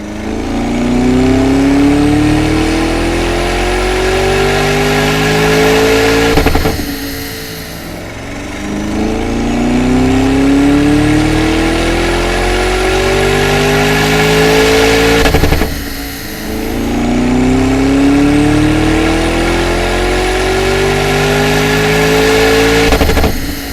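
A Lamborghini engine revving hard on a dyno, three long full-throttle pulls rising in pitch, each cut off abruptly before the next, loud and close with no talk.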